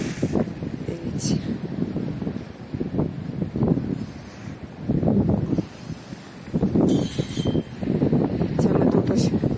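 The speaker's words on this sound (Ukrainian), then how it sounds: "Сьогодні вітер такий добрий." Strong wind buffets the microphone in loud, rumbling gusts that rise and fall, with brief quieter lulls between them.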